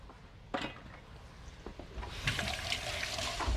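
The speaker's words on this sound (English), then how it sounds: "And just drain it real well." Packing liquid drains from packaged wild rice for a mushroom soup, a splashing pour into a sink that grows steadier and louder after a sharp knock, close by with no talk.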